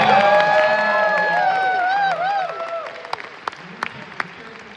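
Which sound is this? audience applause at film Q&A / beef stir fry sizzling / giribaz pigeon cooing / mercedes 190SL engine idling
audience applause at film Q&A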